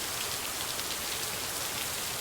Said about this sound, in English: The rain is, like, actually a little loud.